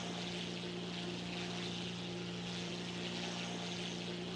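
Propeller airplane engine from the War Thunder video game, a steady continuous drone with a strong low hum, heard alone at a constant level with no talk.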